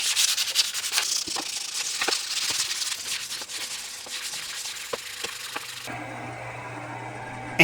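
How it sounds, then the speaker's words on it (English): Light sanding of a wooden sling shaft gives a steady, close, hissing rub with small scuffs, then it stops abruptly and a low hum takes over. "Finally, let's give it a light sanding."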